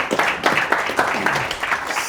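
An audience at a business panel on building a million-pound company gives a short round of applause for a speaker, with brisk, uneven claps in a quick burst.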